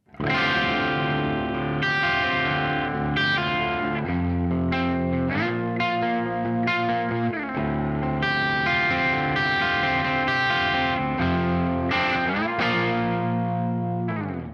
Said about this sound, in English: Let's begin with the bridge humbucker, clean sounds